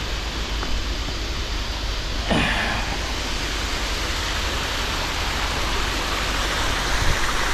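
Steady rushing water pours continuously at a natural waterfall in Laos, a dense even hiss close by, with one faint brief sound partway through.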